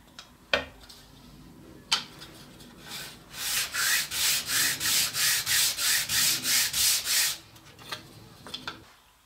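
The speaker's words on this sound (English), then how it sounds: "So give it a couple passes, clean up the burrs on each piece" Scroll-sawn wooden puzzle pieces are deburred with a couple of passes, producing a close burst of about a dozen rhythmic sanding strokes, set between a few sharp knocks of wood being handled.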